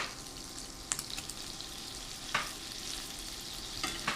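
A small picanha steak sears in a hot pan, giving a steady close sizzle and crackle, with a few sharper spits and pops breaking through. No one speaks.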